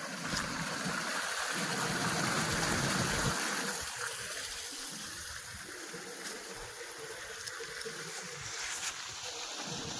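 Water flows on a farm with a continuous gushing rush nearby, loud at first and then settling to a softer, steady stream.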